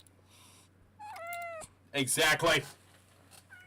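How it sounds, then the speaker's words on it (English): Close, clear cat meows: one drawn-out tonal meow followed by a louder, harsher caterwauling yowl, with a brief spoken word in between. "Darn cat!"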